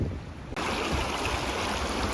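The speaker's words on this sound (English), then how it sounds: "We got to cross over the creek or the river here." Creek water rushes steadily while a hiker crosses it in the Australian Alps, a close, broad flowing wash that swells suddenly after a short quieter opening.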